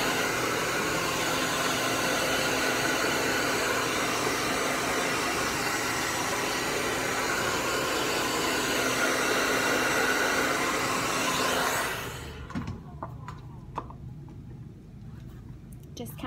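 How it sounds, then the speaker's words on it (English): A blow dryer on its cool setting roars steadily at close range for about twelve seconds while drying a hairstyle, then shuts off, leaving quiet room sounds. "I like to go through just with a cool shot from the blow dryer"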